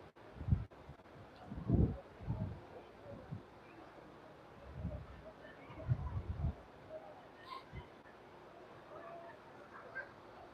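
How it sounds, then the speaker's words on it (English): Wind buffets a microphone on the deck of the Crown Princess cruise ship leaving San Francisco, with irregular low rumbling gusts that come in bursts over a quiet airy background and no clear talking. "The wind is blowing it around."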